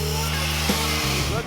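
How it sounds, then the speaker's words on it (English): An electric grinder cutting out a stuck bolt, a loud sustained whine with steady harmonic tones that dip and shift in pitch as the disc bites into the metal. "I will need to grind it out because I can't get the bolt out otherwise"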